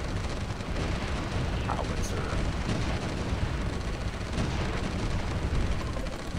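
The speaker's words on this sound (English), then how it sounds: "Howitzer." Howitzer artillery fire in the war strategy game Supreme Ruler 2020: a dense, continuous rumble of booming blasts and explosions, loud and sustained throughout.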